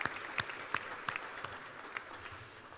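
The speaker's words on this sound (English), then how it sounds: "One more round of applause for the Moskowitz" Faint, scattered handclaps at a college presidential awards dinner, a few sharp claps standing out over a thin, quiet room.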